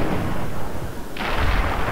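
Gunfire in the video game Fallout 3: one loud, booming shot bursts out partway through over a constant rumbling game background.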